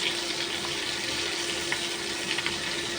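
Pieces of pointed gourd (potol) fry in hot oil, a steady close-up crackling sizzle with faint pops throughout.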